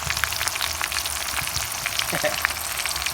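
Grasshoppers deep-frying in hot oil in a pan, a dense steady sizzle and crackle with scattered sharper pops, heard close and alone.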